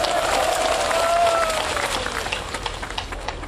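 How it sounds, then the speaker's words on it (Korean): A crowd at an outdoor street speech by Seoul Station applauds steadily, a dense wash of clapping that thins and fades toward the end. "우리 김문수 지사한테도 박수를 보내줍시다"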